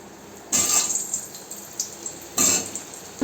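Potatoes dropped one at a time into hot mustard oil, each landing with a sudden bright sizzling burst that fades, two distinct bursts with quieter crackle between.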